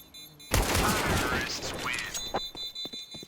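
M4 rifle fire in Counter-Strike erupts in a loud, dense burst of shots followed by scattered single cracks, with a caster talking over the action.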